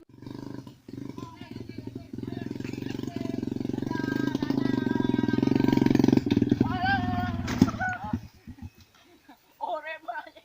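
An old Kawasaki KLX motorcycle engine revs and roars loudly for several seconds, rising to a peak and then dropping off, while someone talks over it and after it settles.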